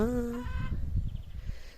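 A drawn-out, strained chicken cluck or crow opens the clip, then low rumbling and scratchy farmyard noise continues close by in a Ukrainian rural yard.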